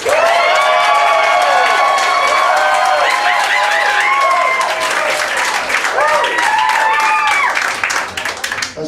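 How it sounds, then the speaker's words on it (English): A comedy competition crowd claps and cheers loudly and steadily, full of whoops and shouted voices, as the audience votes for a favourite comedian. "Clap for who you really like."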